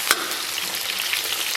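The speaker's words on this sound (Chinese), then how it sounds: "咱们把切好的姜片给它下里边，然后给它简单煸炒一下" Sliced ginger stir-fries in a wok with a dense, bright sizzle and crackle, close and steady, with a quick clink of the utensil at the start.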